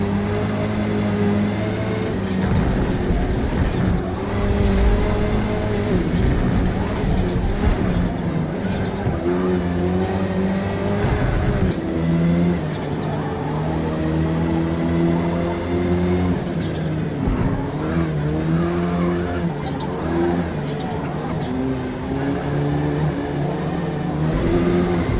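Touring race cars in Forza Motorsport drone continuously at close range, engines rising and dropping through gear changes, with occasional tire squeal and other cars passing.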